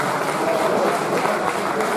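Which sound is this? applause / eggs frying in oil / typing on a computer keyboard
applause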